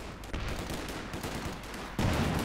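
Artillery and gunfire from Company of Heroes 2 rumble in a steady, dense barrage of booms and shots, swelling into a louder, heavier impact near the end.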